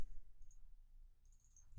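A computer mouse clicks a couple of times at close range while renaming costumes in the Scratch 2.0 editor, faint, quick taps in a quiet room with no one talking.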